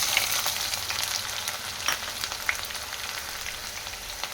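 Onion fries with shahjeera masala in a pan for a dhaba-style paneer curry, a close, continuous crackling sizzle with faint stirring, no voices.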